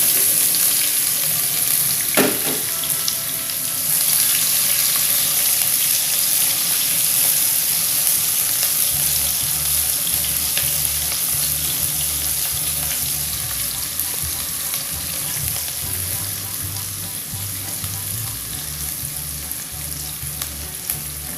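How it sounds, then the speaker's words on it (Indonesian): Steady, close sizzling of onions frying in a pan, with occasional stirring scrapes and a low hum underneath. "Kita goreng bawang bombaynya ya."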